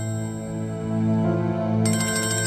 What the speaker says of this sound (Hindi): क्या हुआ मिनी, किसका फोन है?